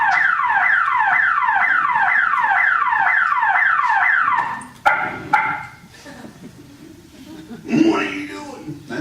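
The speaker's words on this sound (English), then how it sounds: "The alarm goes off if like something happens to the curtain" An electronic alarm guarding a stage curtain at a horror make-up show blares rapid repeating warbling sweeps for about four seconds, then cuts off. Voices and laughter follow nearby.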